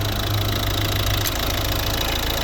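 Steady close idling of a 2012 Volvo V50's 1.6 D2 diesel engine, a continuous even drone without any speech.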